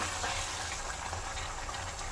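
Water pours steadily into a pot of Palakkadan Ravuthar biryani, making a close, continuous splashing rush with no talk over it.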